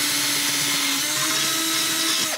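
A drill bit bores a hole through tubing for a bolt pin on a DIY guitar neck steamer, giving a steady whining motor drone with a high grinding tone, close and continuous throughout.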